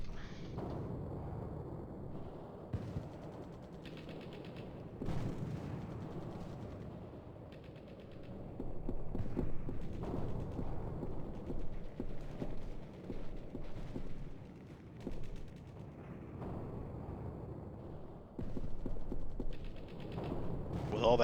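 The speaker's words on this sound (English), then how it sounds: "With all that ambient gunfire and explosions I'm hearing, that sounds like Beirut in the movie Navy SEALs." Ambient gunfire and explosions in the Prague uprising mission of Hidden & Dangerous Deluxe with the Ultimate Overhaul mod: scattered distant shots, rattling bursts and dull booms come and go throughout.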